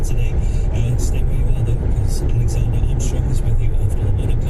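A 2-litre Citroen car cruising on a motorway, with a loud, steady low engine drone and road roar throughout, under someone talking.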